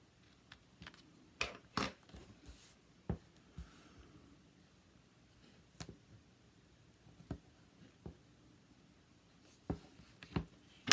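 Scissors cut tape in a craft tutorial, making scattered short snips and clicks, close but faint, with quiet gaps between.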